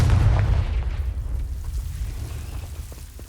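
A Confringo blasting spell detonates in Hogwarts Legacy, opening with a heavy, loud low boom that decays into a rumbling, crackling tail of debris over a few seconds.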